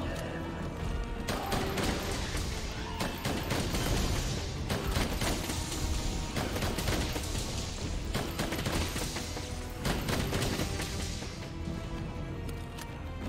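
Cannon fire in Monster Hunter World during a Kulve Taroth siege event, a dense, continuous barrage of booming shots and crashes layered over game noise, loud and unrelenting throughout.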